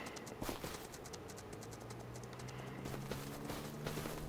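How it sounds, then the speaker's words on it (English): Horse hooves clip-clop in Farming Simulator 25, a quick run of evenly spaced hoofbeats over a quiet game background with a low tonal hum. "Naughty horse, stay still."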